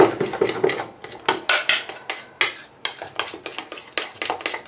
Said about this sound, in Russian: И тоже размешиваем это все, хорошенько вымешиваем.